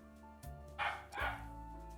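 A dog named Duncan barks indoors, two loud close barks in quick succession over a steady low hum.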